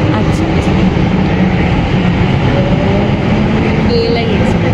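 The KLIA Express train in Kuala Lumpur passes as a loud, continuous low rumble of rolling wheels and wind rush, steady throughout the short stretch.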